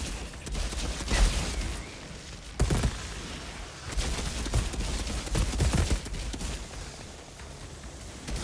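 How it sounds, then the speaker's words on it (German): Gunfire in the video game Outriders, dense bursts of rapid shots with heavy impacts rolling continuously over a busy, noisy game soundscape, fairly faint overall. "Ein paar Schüsse noch auf den großen drauf haben, in die Brust"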